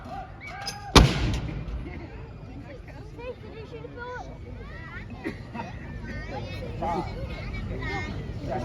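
Royal Artillery guns fire a salute at an outdoor Armed Forces Day event in a lakeside park: one sharp, loud report booms early, then a crowd murmurs and talks over the background.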